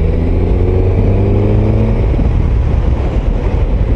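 A Suzuki GSX S 1000 GT motorcycle engine drones loudly up close at speed, its pitch holding steady and then dropping as a gear change comes, with heavy wind rush throughout.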